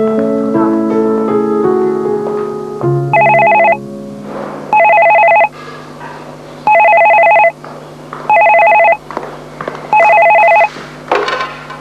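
A telephone rings in a domestic drama scene, five or six loud electronic bursts in a steady on-off rhythm, entering after soft background music fades.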